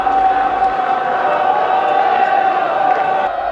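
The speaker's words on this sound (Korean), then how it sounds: "춤을 추다 말고 갑자기 함성을 지르기 시작합니다." Dancers gathered at the Western Wall in Jerusalem break into loud shouting. The crowd roar is dense and sustained, with a steady tonal blare running beneath it, and it holds at a constant high level for a few seconds.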